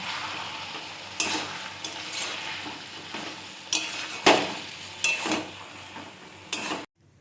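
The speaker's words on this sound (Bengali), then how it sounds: "এখন আগে থেকে ভেজে রাখা চিংড়িগুলোকে" Pre-fried prawns are stirred into cooking taro leaves in a pan: a continuous sizzle broken by sharp, close scrapes and clatters of the spoon against the pan, with no talking.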